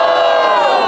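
A rap battle crowd at Batalha da Arte roars and cheers loudly in one brief, dense burst of voices.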